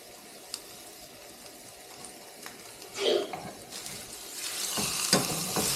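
Tri-tip steak searing on a smoker grill in a reverse sear, a soft low sizzle that swells into a louder hiss toward the end, with a few faint clicks and knocks nearby.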